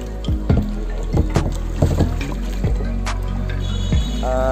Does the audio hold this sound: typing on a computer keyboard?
no